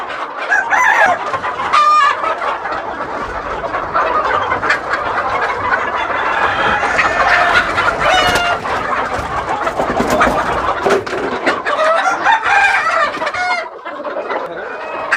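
A loud, busy chorus of chickens clucking continuously, with roosters crowing several times over the top, close by, on a duck, chicken and goat farm in Medinipur, West Bengal.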